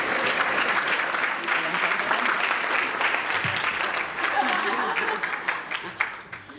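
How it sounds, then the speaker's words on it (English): An audience at a university research program luncheon claps steadily for several seconds, a loud, dense roar of hand claps with no talk over it, thinning slightly toward the end. "let's give him one more round of applause"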